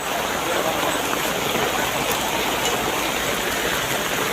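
A heavy downpour in Narayanganj, Bangladesh roars without pause, a thick, uniform wash of rainfall close by and unchanging in intensity.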